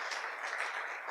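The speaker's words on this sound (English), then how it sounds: "Please, a round of applause for the YP lead and" Audience applause at an energy technology pitch competition, a dense steady wash of clapping hands filling the short moment at moderate level without pauses.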